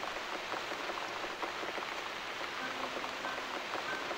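Steady rain falling in the video game The Cat Lady, a dense continuous hiss of drops on surfaces, even in level throughout, with faint tones underneath and no speech.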